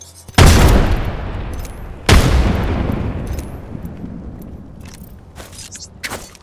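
Two loud, close explosions from a frag grenade in the battle-royale shooter Apex Legends, each a sharp boom trailing into a long rumbling decay, followed by fainter scattered shots and clatter.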